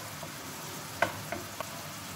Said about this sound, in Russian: А теперь доводим лук до прозрачности.